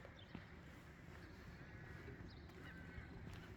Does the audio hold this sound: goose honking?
yes